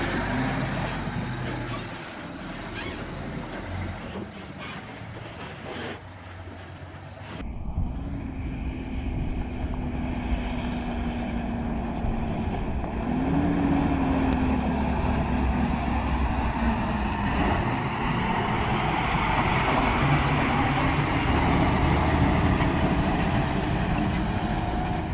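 Loaded logging trucks in a convoy hauling tens of tons of timber roll downhill on a forest road, a steady heavy engine drone with rising tonal whines, continuous and close throughout.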